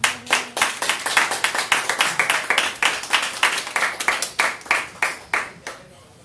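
Church congregation claps hands in praise, a loud, steady rhythmic beat of about three or four claps per second, close and sustained before fading at the end.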